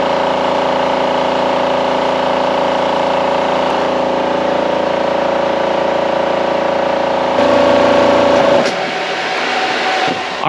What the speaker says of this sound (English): Compressor shut off on its own.